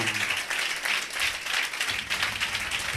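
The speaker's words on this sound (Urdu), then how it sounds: "زوردار تالیاں." Loud, sustained applause from a church congregation, dense clapping filling the room steadily throughout with no break.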